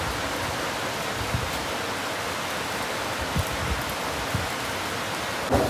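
Heavy rain pours down in a steady, dense hiss that stays loud and even throughout, with a few soft thuds near the end and no voices.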